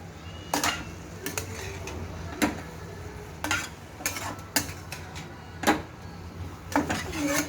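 A utensil stirs and mixes food in a bowl, with a string of sharp clinks and scrapes at irregular intervals, close and fairly loud, and brief speech now and then.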